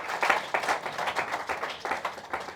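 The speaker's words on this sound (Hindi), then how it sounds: "बजाओ ताली" An audience at an astrology speech breaks into applause, a dense run of many hands clapping together for a couple of seconds at a moderate distance.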